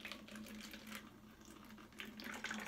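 Water runs steadily from a tap into a plastic water bottle being filled to about half an inch for water bottle music, a continuous close splashing trickle with small surges, no talk.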